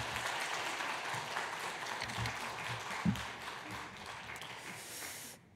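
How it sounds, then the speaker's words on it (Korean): A church congregation claps steadily in welcome as the pastor comes forward at a Sunday service, a dense, continuous wash of many hands that swells and then fades out near the end. "우리 목사님 나오실 때 박수로 환영하겠습니다"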